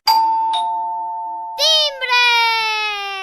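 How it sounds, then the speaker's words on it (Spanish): A doorbell sounds a clear two-tone ding-dong chime with a long ringing decay, followed by a second brighter chime whose tones linger and fade, heard alone. "¡Timbre!"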